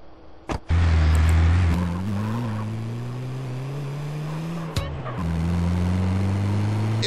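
A getaway car in GTA San Andreas roars off, engine revving loudly and steadily close up, with a couple of sharp knocks or thuds breaking the drone.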